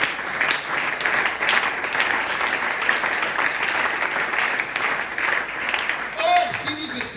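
A church congregation breaks into sustained, even applause to acclaim the Lord, a steady wash of clapping lasting several seconds with voices mixed in.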